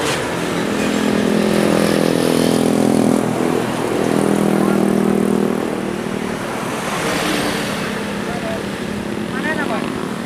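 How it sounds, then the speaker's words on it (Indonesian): A loud, steady engine drone of a propeller airplane passing overhead, swelling and fading over several seconds, with people talking underneath. "Pesawat."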